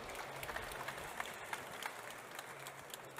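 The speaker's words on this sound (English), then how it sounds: "Round of applause, please, for Rodolfo Frascoli." Audience applause at the unveiling of the 2019 Suzuki Katana motorcycle, a steady, fairly faint wash of clapping from a crowd lasting throughout, with scattered louder claps and a low background murmur.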